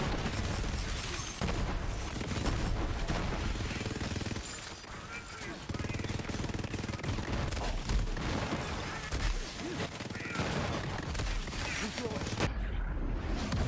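Rapid pistol fire in the shooter game Borderlands 3, dense bursts of shots and impacts over busy game effects, with a voice talking over the action throughout.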